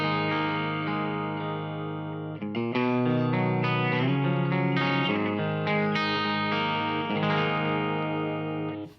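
An electric guitar with Fishman Fluence Classic humbuckers plays chords and notes through a clean channel on the bridge pickup, in a bright, clean tone, ringing continuously and clearly with no voices.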